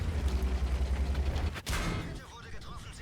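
Rumbling low-frequency bursts of gunfire from a Leopard 1 tank in a video game, then a sharp blast followed by a mechanical whirr and clatter.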